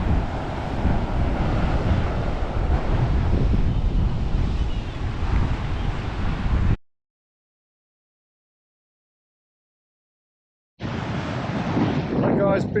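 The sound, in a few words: wind at Hellfire Bay beach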